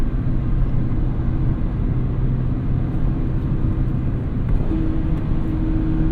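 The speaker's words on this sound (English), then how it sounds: "Downshifting on here is great, man." A damaged Mazda ND1 Miata drives with its engine droning steadily from inside the car, and the pitch shifts near the end as it downshifts.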